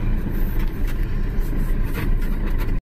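Cab interior of a moving tow truck: a loud, steady engine drone with road rumble, continuous and close, cutting off sharply at the end.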